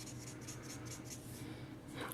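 A Stampin' Blends marker rubs back and forth across paper while coloring with green ink, making soft, quiet scratchy strokes in a steady rhythm, close up, with no talking.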